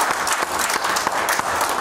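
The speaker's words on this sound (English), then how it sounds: "Give the Lord a hand clap this morning." A church congregation claps together during a morning service, a quick run of sharp, fairly loud hand claps in a roughly regular rhythm over a short stretch.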